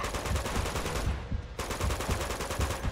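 Rapid automatic gunfire in the Uncharted: Among Thieves video game, a loud, fast stream of shots that breaks off for about half a second and then resumes at the same hard rhythm.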